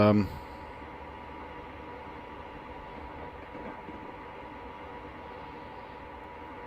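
A train rolls steadily in Train Simulator Classic, giving a low, even rumble of wheels and engine with a quiet hiss underneath, a brief louder burst at the very start.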